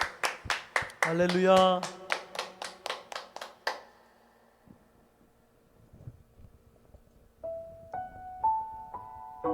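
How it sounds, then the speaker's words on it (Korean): A church congregation at a Sunday service claps in sharp, rhythmic unison, loud and close, while a voice calls out over it; the clapping stops partway through and a few sustained keyboard notes follow. "박수로 영광 올려드립시다"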